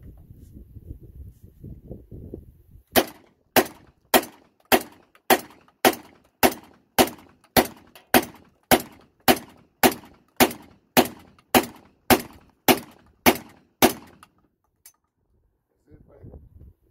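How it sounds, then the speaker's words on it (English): Rapid string of about seventeen loud shotgun blasts from a Tokarev TBP-12 fed by a 20-round drum at a shooting range, evenly spaced and sharp, following brief murmuring, then silence with a faint sound at the end. "This is the first time shooting this rifle right here."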